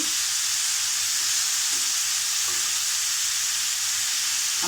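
Raw banana bhaji with turmeric frying in a pan, a continuous loud hiss and sizzle with faint stirring knocks underneath, close up and steady throughout, no voices.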